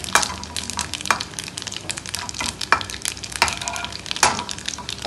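Whole spices—cloves, cumin and fennel seeds—crackle and sizzle steadily in hot oil for a Jain-style mixed vegetable dish, with a few sharper pops and stirring scrapes over the continuous frying hiss, no talk.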